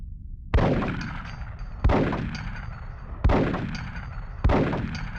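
Four sniper rifle shots from Die Hard: Vendetta ring out at even intervals of about 1.3 seconds, each a loud, sharp crack with a decaying echoing tail, alone and without voices.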